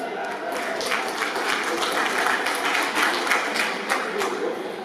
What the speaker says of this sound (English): Everybody clap for me here, please.